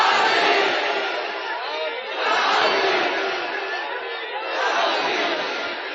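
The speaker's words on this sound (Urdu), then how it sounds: "علی کے نام کا نعرہ ہاتھ اٹھے ہوئے ہوں" A large crowd at a religious gathering chants slogans in Ali's name in unison, a dense, roaring mass of voices that swells and dips in waves across several seconds without pause.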